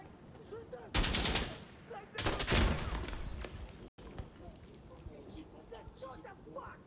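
Gunfire in the shooter Insurgency Sandstorm: two loud bursts of rapid automatic fire, each lasting about a second, then quieter battle ambience with faint distant shots and brief voices.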